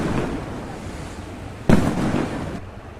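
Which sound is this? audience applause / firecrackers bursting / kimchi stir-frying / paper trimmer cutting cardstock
firecrackers bursting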